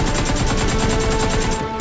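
Rapid gunfire rattles in a Squid Game video game, a fast, dense burst of shots repeating evenly and loudly for nearly two seconds with a high tonal whine running underneath.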